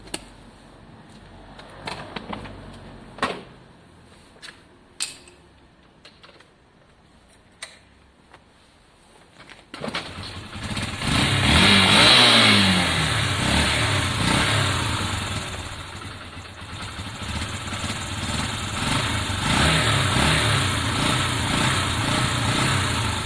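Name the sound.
Italjet Formula scooter engine starting and revving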